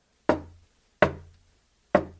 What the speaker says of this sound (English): At the chamber door but a gentle tap.